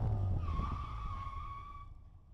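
An Austin-Healey Bugeye Sprite with front disc brakes brakes hard and its wheels lock, producing a sustained tire skid squeal over fading engine noise that lasts about two seconds.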